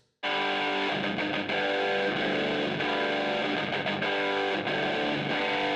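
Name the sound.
distorted seven-string electric guitar recording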